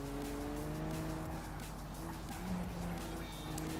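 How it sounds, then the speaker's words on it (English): Race car tires scream in the BeamNG driving game, a sustained loud squeal layered over roaring engine noise that continues steadily throughout, with no voices. "You heard my car screaming, yes."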